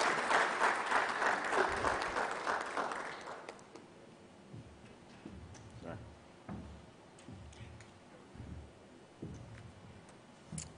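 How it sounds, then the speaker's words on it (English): An expo audience applauds to welcome a minister, a loud burst of clapping lasting a few seconds before quickly dying away into scattered taps and faint room noise. "Please welcome him with a round of applause"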